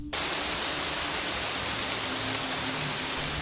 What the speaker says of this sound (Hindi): उस दिन उतनी ही तेज बारिश हो रही थी जितनी तेज बारिश सुरेश की मौत के दिन हुई थी।